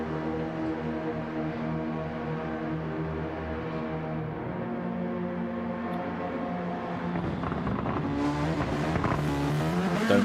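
Toyota Supra GT3 race car engine in a racing video game at the Nurburgring GP, a steady harmonic drone that climbs into harder revving near the end, with faint tire noise.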